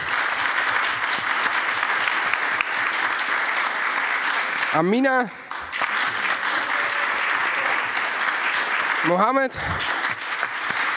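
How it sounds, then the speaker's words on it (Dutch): Sustained audience applause for members of a youth panel at a Dutch election event, steady dense clapping throughout while a voice announces names over it. "Amisha, applaus."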